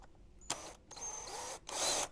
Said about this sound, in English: Then I need to pilot it.